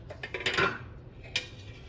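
A 48-count mini muffin pan for lemon blueberry muffins is handled, giving a few light metallic clinks and rattles at close range, with no talking.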